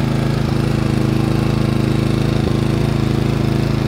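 A Genmax GM4600iAEFIC 4,600-watt fuel-injected inverter generator runs close by, a steady low engine drone with an even pulsing hum and no talk.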